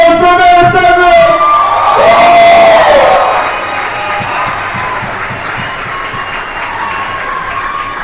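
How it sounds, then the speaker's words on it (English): Audience applause and cheering at an awards announcement for Black Diamond Lab Masters 2025, a loud crowd roar with whoops and shouts rising over a sustained tone, then settling into steady clapping and chatter. "huge round of applause, drum roll"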